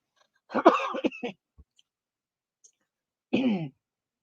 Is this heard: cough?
yes